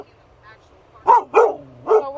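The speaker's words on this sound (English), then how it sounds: "I got 2 dogs right here." Two dogs bark in a parked-car setting, three sharp close barks after a quiet start, the last followed by a soft whine.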